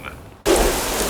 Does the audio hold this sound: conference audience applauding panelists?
no